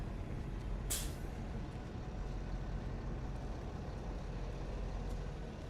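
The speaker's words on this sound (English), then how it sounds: "There's a 100 bus." A Toronto city bus on the 100 route releases a sharp hiss of air brakes once, close by on an East York street, over a steady low rumble of traffic and engine noise.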